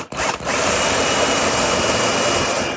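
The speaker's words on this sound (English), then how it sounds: "And I'll drill 1/4-inch pilot hole," A power drill whirs steadily and loudly after a brief start-up stutter, drilling a quarter-inch pilot hole in wood, running continuously close by with no talking.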